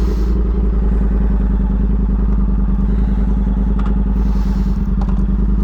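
An Indian FTR 1200 motorcycle runs steadily close by, its deep engine rumble continuous and loud, with a few light clicks and clatters on top.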